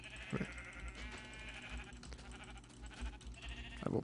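A Minecraft sheep bleats a few times in a row, the wavering cries carrying over a constant low hum and background noise.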